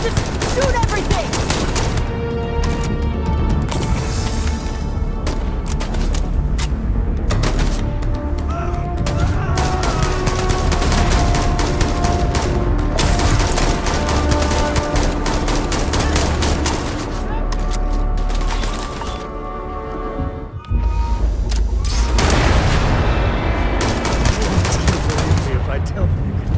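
Gunfire in the sci-fi video game Starfield: loud, sustained, rapid bursts of automatic fire and explosive blasts fill the scene, with voices shouting over the combat and a brief lull near the end.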